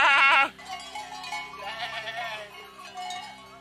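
Goats bleat on an Alpine mountain trail in the Aosta Valley, a loud wavering bleat at the start followed by softer overlapping bleats and calls from the herd nearby.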